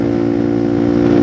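A motorcycle is pushed at full throttle near 75 km/h on a road in Magetan, its engine straining in a loud, continuous, close-up buzzing drone that holds steady throughout.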